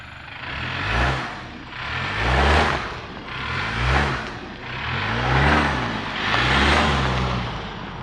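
A coarse 2024 Toyota Tacoma turbo engine, heard from outside, revs up and down repeatedly, about six swells of rising pitch, loud and close, with a throaty turbo-diesel character.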